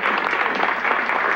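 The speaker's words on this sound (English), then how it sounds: "a big round of applause to our star" Brief burst of audience applause for a film star at an event, dense and fairly loud clapping from many hands that is steady throughout and has no talk over it.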